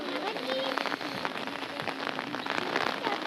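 Heavy rain pours steadily at Ponmudi amid wind and mist, a dense, close hiss of drops spattering on surfaces with scattered sharper taps throughout.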